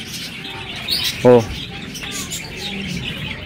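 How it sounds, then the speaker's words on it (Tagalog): Pigeons and parakeets kept in a birdhouse give a brief burst of chirps and tweets in the middle, with faint bird calls around it and a person speaking briefly. "ang mga hawak pong ibon ni Sir ay mga kalapate at saka mga parakit"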